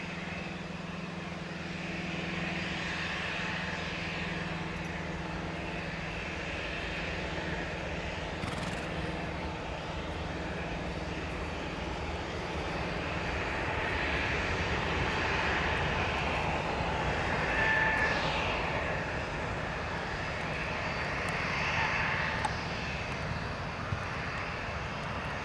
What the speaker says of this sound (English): That's the MAX up and away.